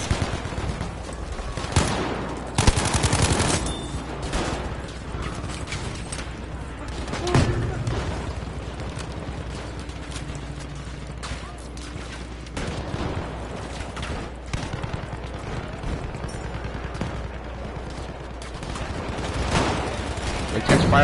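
A pistol fires repeatedly in a video game, with sharp shots scattered across a busy stretch of game noise while a person talks over it.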